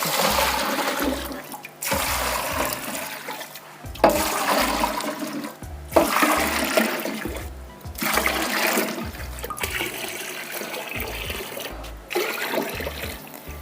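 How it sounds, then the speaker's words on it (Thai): Water pours steadily into a soup pot for a chicken noodle broth, a gushing splash that comes in repeated pulses with short breaks, close and fairly loud. "แล้วก็เติมน้ำลงไปเลยนะเจ้า"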